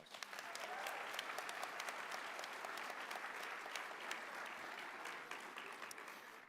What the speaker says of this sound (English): would you please give her a round of applause?